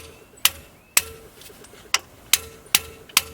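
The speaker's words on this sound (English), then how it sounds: "What happens when we hit said valve with hammer?" A hammer strikes an engine valve on an LS-swapped Mazda Miata whose engine blew up at redline. There are six sharp metallic knocks at uneven intervals, each ringing briefly, loud and close in a quiet garage.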